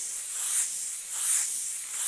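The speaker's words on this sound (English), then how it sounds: "Just spraying a nice fade coming off of" An airbrush sprays a light-colored paint fade around a shaded cube, a steady airy hiss that swells and eases in two soft passes, close to the mic with no talking.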